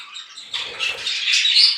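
Caged parakeets let out a brief burst of high, busy chirping and twittering, close and fairly loud, with no voices over it.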